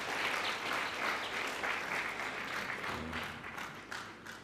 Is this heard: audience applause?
yes